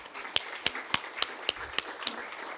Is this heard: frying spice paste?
no